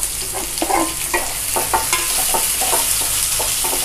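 Onions frying with chillies and curry leaves for rava kichadi, a steady loud sizzle broken by repeated scraping and clattering stirs of the pan, no voices.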